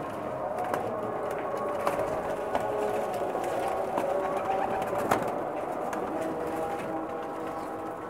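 Pakistani pigeons coo on a rooftop, low murmuring calls repeating steadily over a constant background hum, with a few sharper clicks and flutters near and no voices.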